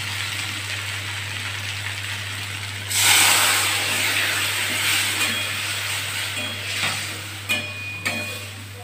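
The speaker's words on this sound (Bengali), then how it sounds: "জল ঢেলে দেবো।" Water poured into frying poppy seed paste with bottle gourd leaves hits the hot pan with a sudden loud hiss, settling into steady sizzling under a constant low hum, with a few sharp clinks near the end.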